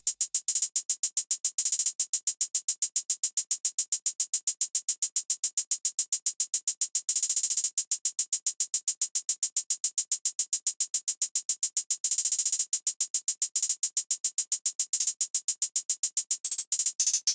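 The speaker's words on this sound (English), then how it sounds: "laying down this double time hi-hat pattern" A crisp hi-hat ticks in a fast, steady double-time pattern, broken every few seconds by quick rolled bursts, playing alone.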